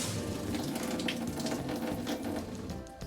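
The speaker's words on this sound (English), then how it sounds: "now we'll do the cold faucets" Cold water faucet in a Jayco 267 BHS bunkhouse camper running steadily, a continuous rushing stream of water splashing into a sink, close and even for the whole stretch.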